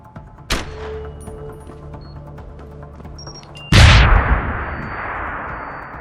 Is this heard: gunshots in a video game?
yes